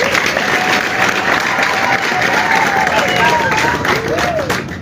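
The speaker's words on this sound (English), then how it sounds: "Please give her another applause for her great work" Crowd applause and clapping at an awards ceremony for graduates of a political party's leadership school, a steady wash of hands mixed with crowd babble and a voice over it.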